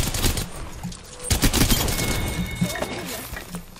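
Gunfire in the video game Apex Legends, rapid crackling shots and bursts filling the clip at close range, with a voice talking over the shooting.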